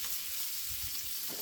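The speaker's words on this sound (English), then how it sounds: "We're going to throw our onions right in there." Onions fry in a pan alongside ham for a green bean and potato dish, giving a steady close sizzle and crackle with a few low stirring scrapes and no talk.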